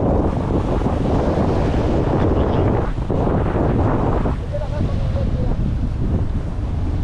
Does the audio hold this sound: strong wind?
yes